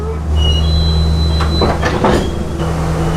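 A train in Sri Lanka rolls along with a low steady rumble, broken midway by a few clattering bursts and a brief metallic squeal.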